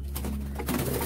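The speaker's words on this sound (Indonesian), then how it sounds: "itu tadi ya tekukur" Spotted dove (tekukur) cooing in a colony breeding cage, a short low hum-like coo over steady background noise, moderately close.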